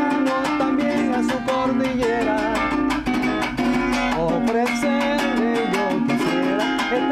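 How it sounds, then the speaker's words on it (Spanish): Venezuelan cuatro tuned down to G strums a gaita rhythm with brisk, repeated percussive strokes, full and continuous, in a dense ensemble-like texture. "Entonces ahí el cuatro suena distinto, suena así."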